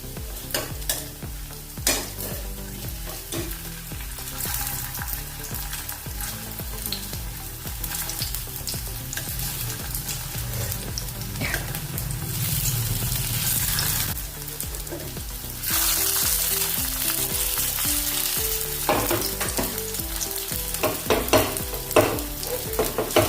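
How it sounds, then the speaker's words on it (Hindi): Aloo daliya tikki shallow frying in a pan, a steady close sizzle that runs throughout, with the occasional clink or scrape of a utensil and a sharper burst of crackling partway through. "मैं सेलो फ्राई कर रही हूँ, आप डीप फ्राई भी कर सकते हो।"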